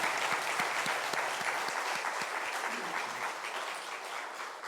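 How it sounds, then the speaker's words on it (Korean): Congregation applauding inside a church during a revival meeting, a broad, steady wash of many hands clapping that holds for several seconds and slowly thins toward the end. "하나님 앞에 영광의 박수 올려드리겠습니다"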